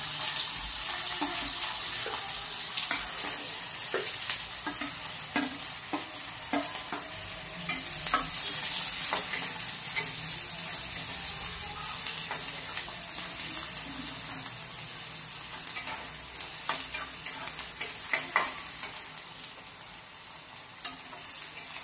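Cumin seeds crackle in hot oil as chopped onion is added and fried, a steady broadband sizzle with scattered pops and sharp stirring scrapes throughout, close and fairly loud.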